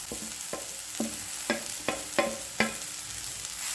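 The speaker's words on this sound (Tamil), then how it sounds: "இதை நல்லா வதக்கி விட்டுக்கிடுங்க." Grated vegetables and lentils sautéing in a pan for a vegetable poriyal, with a steady sizzle under about seven scraping stir strokes spaced at a regular rhythm, close and fairly quiet, no talking.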